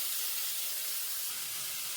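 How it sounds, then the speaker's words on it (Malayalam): Onions with salt sautéing in a pan, giving a soft, steady hiss of sizzling that holds evenly throughout without breaks. "നമുക്കിതൊന്ന് വഴറ്റാം. വഴന്ന് വരട്ടെ."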